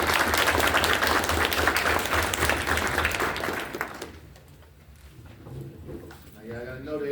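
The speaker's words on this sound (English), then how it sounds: "Now please give them a round of applause." A board of education meeting audience applauds students being recognized, a full round of clapping that fades out after about four seconds, leaving a quieter room with a voice starting to speak near the end.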